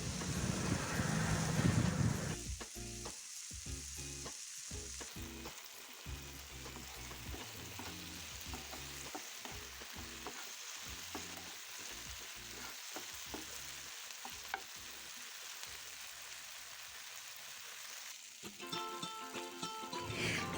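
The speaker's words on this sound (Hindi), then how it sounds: "इसे मीडियम आंच पर रखते हैं टमाटर प्याज को हम 10 से 15 मिनट के लिए" Tomatoes and onions fry on medium heat in a pan for brinjal chutney, giving a steady close sizzle throughout with brief stirring scrapes.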